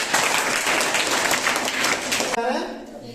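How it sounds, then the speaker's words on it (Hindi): Loud, steady applause from a classroom crowd during a quiz, continuous for a few seconds before tapering off. "ताली बजाओ इसके लिए"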